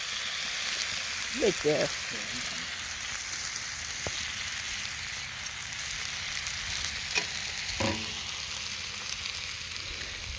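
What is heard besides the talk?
breakfast frying in a pan at a campsite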